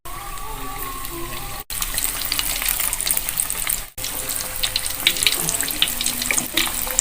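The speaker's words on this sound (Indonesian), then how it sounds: "Guys, yang udah kita lipat tuh guys, ya tinggal kita goreng. Guys, minyaknya udah panas ya." Folded sambosa spring rolls with sausage and vegetables in lumpia wrappers fry in hot oil, giving a steady, close hiss and crackle that carries on throughout with brief breaks, and nobody speaks.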